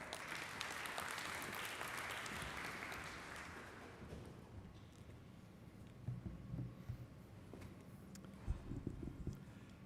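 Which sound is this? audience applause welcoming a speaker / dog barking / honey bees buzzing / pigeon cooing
audience applause welcoming a speaker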